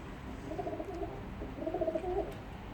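Male pigeon cooing to its mate on a balcony at dusk, soft repeated throaty coos in two bursts, close and moderately loud against a faint background hum.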